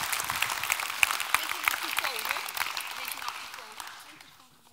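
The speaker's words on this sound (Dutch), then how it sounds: "Ja, graag een hartelijk applaus" An audience at a Dutch neuroscience lecture evening claps warmly for an incoming speaker, a dense burst of applause that gradually thins and fades out over a few seconds.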